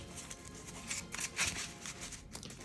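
Quiet papery riffling and soft slaps as a deck of Yu-Gi-Oh! trading cards is shuffled, faint and close with a few sharper flicks.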